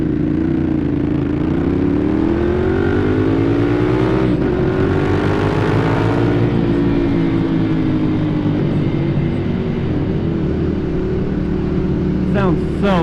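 Ducati Monster 796 motorcycle engine pulling hard while riding, a loud, steady engine drone rising in pitch through acceleration with wind rush, continuous throughout.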